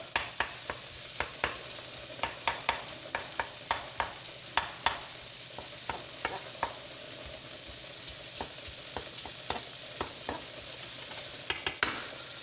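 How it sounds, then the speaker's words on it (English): Bacon sizzles steadily in a pan, with a string of sharp scraping clicks from a utensil as it is stirred and broken apart, close up and with no talk. "Get it separated out so we can get it browned and release some of that delicious bacon fat"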